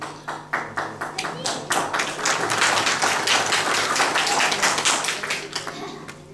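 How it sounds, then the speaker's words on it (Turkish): An audience at a meeting applauds. Scattered claps build into dense, sustained applause and then thin back out over about six seconds. "Bu alkışlar Abhazya Devleti'ne gitti."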